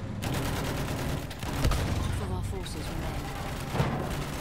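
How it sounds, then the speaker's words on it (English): In the video game Battlefield 1, a double machine gun fires from the side of a vehicle in bursts of rapid shots, with heavy booms and battle noise. Players talk over the gunfire. "Double machine gun on the side."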